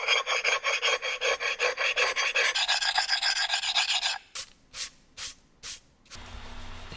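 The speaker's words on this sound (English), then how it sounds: "if you get glaze runs on these shelves, it literally peels off, and you can just scrape it away with this glaze eraser" A glaze eraser scrapes glaze runs off an Advancer kiln shelf in a fast, steady rasping rhythm of close strokes, then slows to a few separate, deliberate scrapes before a faint hum takes over.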